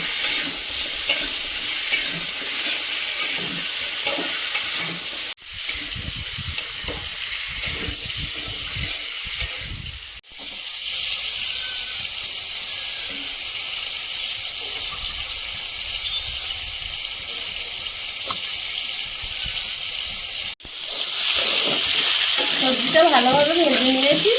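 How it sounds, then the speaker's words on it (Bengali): Taro being sautéed with spices in a pan, a loud continuous close sizzle with steady scraping stirs that carries on for a long stretch, briefly breaking off and then resuming louder, while faint voices murmur underneath. "মশলার সঙ্গে কচুটা ভালোভাবে কষিয়ে নেবে"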